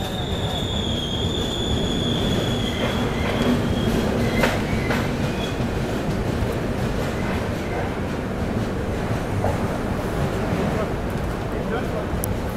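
The Visakha Express on the Bhubaneswar–Secunderabad run rumbles loudly through Bhimavaram Town station, its wheels clattering and squealing on the rails with a steady roar, while voices murmur faintly underneath.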